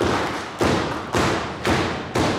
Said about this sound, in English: Facade's got to feel the vibrations of her just pounding on the canvas